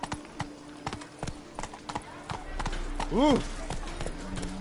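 Hooves of Roach, a horse in a video game, clip-clopping in a quick galloping rhythm, close and clear, while a person briefly exclaims partway through.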